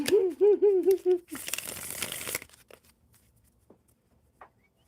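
Tarot cards are shuffled close up for about a second, a dense rustling burst that follows a woman's sing-song voice and then gives way to near silence with a few faint clicks.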